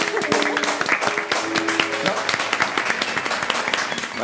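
Applause and clapping from a studio audience on an Italian television show, a dense patter of hands that runs steadily throughout with voices and music tones audible underneath.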